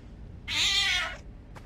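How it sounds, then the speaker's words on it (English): A cat meows once in the zombie horror game Nightmare of Decay, a single loud drawn-out meow in the middle of a quiet room hum, followed by a faint short trailing sound. "Hey, the cat."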